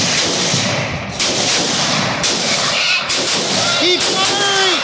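Rifle gunfire cracks repeatedly at Tannerite targets and pumpkins outdoors, dense sharp reports blending into a continuous loud barrage, with shouted voices mixed in.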